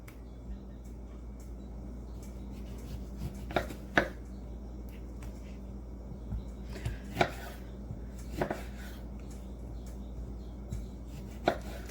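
A knife slices an orange on a cutting board, making scattered, quiet thuds and taps at an uneven pace over a soft background hum.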